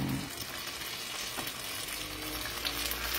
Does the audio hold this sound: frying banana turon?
yes